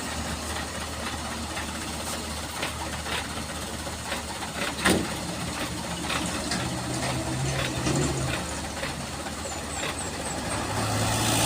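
A dump truck hauling bricks accelerates uphill, its heavy diesel engine a rough, continuous low drone that builds slightly toward the end, with a sharp knock midway.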